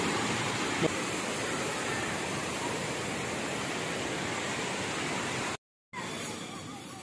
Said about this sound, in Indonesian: limpahan air terjun yang menderu